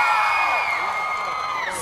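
A festive outdoor crowd cheers, whoops and yells continuously at a Coyoacán celebration in Jardín Hidalgo, loud and dense with no pauses.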